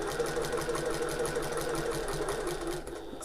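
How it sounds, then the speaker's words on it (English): A sewing machine hums along continuously as fabric for an open-top tote bag feeds flat under the presser foot, a steady close motor whir with a faint rhythmic needle pulse. "make sure everything's nice and flat as it goes under the presser foot"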